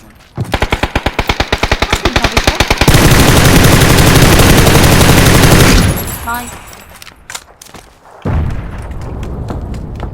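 Gunfire in the video game PUBG (Battlegrounds) comes as a run of rapid, evenly spaced automatic shots, then a loud sustained barrage, a quieter lull, and a fresh burst of fire near the end.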